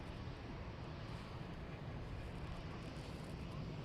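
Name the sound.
Airbus A320-200 touching down at Dublin Airport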